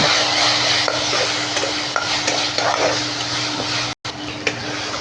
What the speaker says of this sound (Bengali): এগুলো দিয়ে ভালো করে মশলাটা কষিয়ে নেব